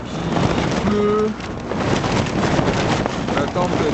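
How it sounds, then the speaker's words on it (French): A storm on Cerro Murallon in Patagonia brings wind, rain and snow, making a continuous heavy roar of wind buffeting against driving rain. A few faint tonal whines rise through the steady din. "ça fait 2 jours qu'il vente, qu'il neige, qu'il pleut"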